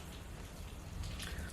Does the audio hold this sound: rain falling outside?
yes